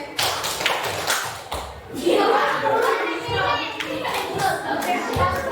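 A group of children play the tepuk sore clapping game, a burst of hand claps and taps up front, then a busy wash of young voices and scattered claps close by.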